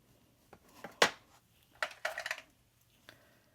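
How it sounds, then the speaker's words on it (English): Scissors drop onto a craft table, giving a sharp metallic clatter followed by a few lighter rattling bounces, close and fairly quiet with no talk. "The scissors fell"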